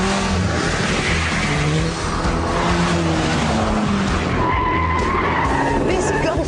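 VW Golf GTI launching hard in a performance test, with loud tyre squeal and skidding over a straining engine as it accelerates, close and continuous, with a voice speaking over it.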